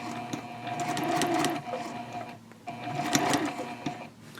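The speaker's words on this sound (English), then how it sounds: "I'm sewing that down in place" Sewing machine stitching across the fold at the bottom of a fabric shopping bag, a close steady mechanical whir in two long runs split by a brief pause.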